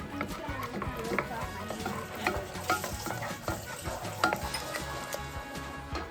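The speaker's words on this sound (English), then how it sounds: "Stir, stir, stir." Cream puff dough for profiteroles being stirred vigorously in a pot with a spoon, giving steady scraping and sticky slapping strokes over a faint sizzle; people talk faintly in the background.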